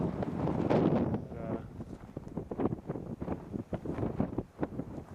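Gusty wind buffets the microphone in uneven low rumbles in a high mountain basin in Nepal, strongest in the first second and then easing into softer, fluttering bursts.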